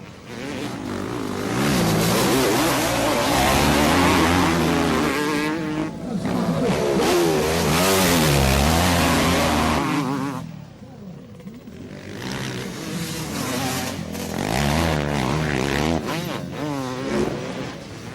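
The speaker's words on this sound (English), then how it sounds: "This exchange is superb between two great champions, Everts on a Honda 250 and Bartolini on a Yamaha 400." Two motocross motorcycles racing at a 1999 Motocross of Nations event, a Honda 250 and a Yamaha 400, engines loudly revving and roaring as they pass, easing off briefly before building again, with a commentator talking over them.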